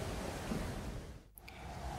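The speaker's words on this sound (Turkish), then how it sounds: "Dalgalar da şiddetini arttırdı arkadaşlar." Stormy open-sea waves in the survival game Stranded Deep, a broad rushing wash of surf and wind that swells and briefly dips near the end before surging back, with no talking.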